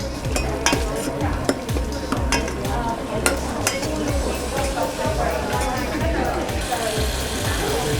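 Curry paste stirred in a hot pan during Thai cooking: a steady sizzle and fry overlaid with repeated scraping and clattering utensil strokes in an even rhythm, close and continuous.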